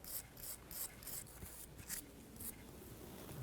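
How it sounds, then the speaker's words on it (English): Bristle brush scrubbing the mounting surface around a power steering pressure line on a 2006-2010 Hummer H3, giving quiet, rhythmic rasping strokes about twice a second, close and steady without speech. "I'm going to use a bristle brush here and clean off our working surface right here."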